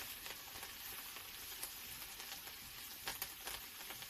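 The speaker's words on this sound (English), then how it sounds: "this is just going to be stir fried on fairly low heat for just a few minutes maximum" Kale, carrots and pak choy stir-frying in a pan over fairly low heat, giving a steady soft sizzle with light scraping and pattering of the vegetables being moved.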